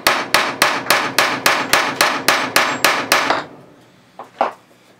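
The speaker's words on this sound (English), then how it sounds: "just holding the punch in place and just giving it a couple good whacks" Hammer striking a punch to drive out an AK barrel pin, about a dozen sharp metallic blows in a steady fast rhythm, close and loud, followed by a couple of softer taps.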